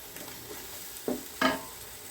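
Homemade biryani masala sautés in a pan with a faint, low sizzle, broken by two short stirring scrapes in the second half; quiet and close, with no talking.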